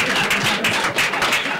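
A studio audience at a Nigerian call-in radio program claps steadily for a woman, a dense, even patter of applause with no voices heard.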